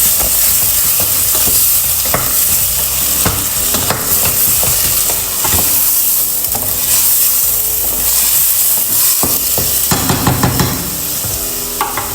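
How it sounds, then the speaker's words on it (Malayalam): Tomato paste sautés in a pan with a loud, dense, continuous sizzle and hiss, broken by frequent stirring scrapes and clatters close by. "തക്കാളി പേസ്റ്റും കൂടി ഇതിലേക്ക് ഒഴിച്ചു കൊടുത്തിട്ട് കുറച്ച് സമയം ഒന്ന് വേവിച്ചെടുക്കാം"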